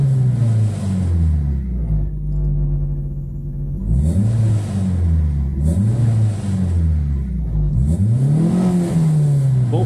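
A VW Cabriolet engine with LE-Jetronic fuel injection, running smoothly after a misfire fault was fixed, is revved hard several times close by, each loud rising rev dropping back to idle.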